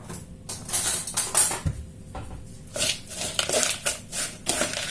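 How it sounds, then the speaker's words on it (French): A spoon scrapes and clinks against a bowl while apple cake batter with cinnamon is stirred, giving irregular wet scraping strokes and clattering taps, close and moderately loud. "Et on va mélanger tout ça."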